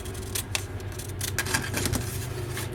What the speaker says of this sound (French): couper mon petit morceau